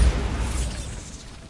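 Bombarda spell blast in Hogwarts Legacy: a single heavy explosive boom with rumbling low end, loudest at the start and fading into a noisy decaying tail over about a second and a half.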